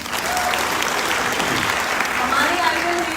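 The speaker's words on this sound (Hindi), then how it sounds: "उनके लिए एक बार जोरदार ताली।" Sustained audience applause fills a training seminar hall, a dense, steady wash of clapping from many hands at even volume throughout, with a few faint voices mixed in.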